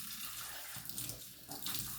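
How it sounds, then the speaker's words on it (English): Water from a running tap splashes steadily over a Boker knife blade being rinsed in a kitchen sink, a constant hissing stream close by with slight shifts as the blade moves. "Let me wash it off real quick."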